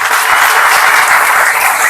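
Loud, dense applause from a church congregation at a Nepali Christian service, a continuous close roar of many hands clapping together without a break.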